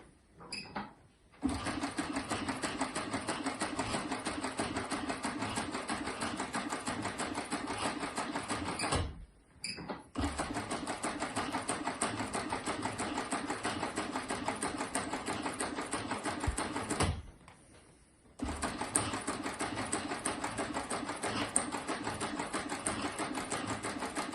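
A sewing machine stitches a seam on a Triumph Spitfire sun visor with a fast, steady mechanical whirr. It runs in three long stretches, split by two brief pauses, and nobody talks.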